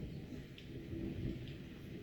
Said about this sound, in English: really bad lightning